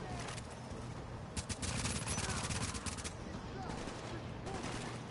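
A deployed automated turret in the video game The Division fires rapid bursts of gunshots amid ongoing combat, sharp repeated cracks over a dense noisy battle bed, with voices chatting underneath.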